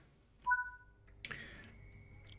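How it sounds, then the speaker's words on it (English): A guard's whistle in a train simulator game set on the West Coast Main Line beside a Class 87 electric locomotive, sounding as short, clear whistle tones, then a sharp burst and a steady thin tone. "You just heard the guard whistle"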